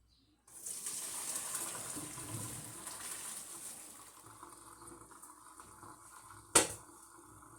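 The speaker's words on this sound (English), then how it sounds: "pour the pasta with water" Cooked pasta and its water pour from a pot into a drainer in the kitchen sink, a sustained splashing gush that gradually tapers off, with a sharp metallic clank near the end.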